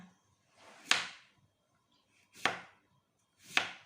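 Three separate swishing chops with a knife, spaced about a second apart, faint and close with quiet gaps between.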